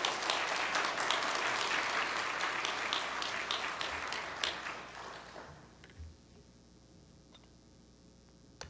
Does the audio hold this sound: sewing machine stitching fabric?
no